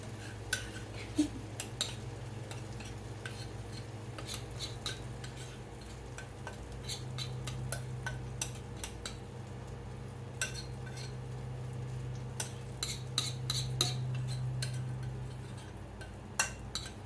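Cheese skillet bread batter pressed into a hot pan, a steady low sizzle running throughout with repeated clinks and scrapes of a utensil against the pan.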